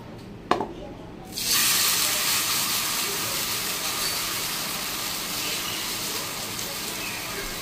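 Batter dropped into hot oil and frying, a brief clink then a sudden loud, steady sizzling hiss that starts abruptly and continues close and strong.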